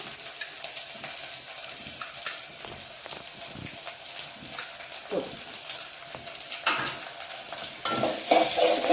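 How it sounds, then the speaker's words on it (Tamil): Onion, green chili and ginger garlic sautéing in a pan for tomato rice, a continuous loud sizzle with frequent scraping stirs, growing busier toward the end. "இஞ்சி பூண்டு நல்லா ஒட்டி பிடிச்சி வர வரைக்கும் வதக்கிக்கலாம்"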